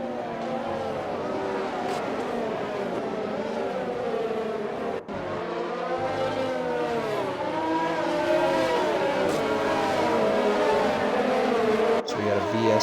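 Formula racing cars in a Belgian Grand Prix racing game, engines droning and whining continuously with rising and falling pitch as several cars run close together, loud and steady throughout with no talk.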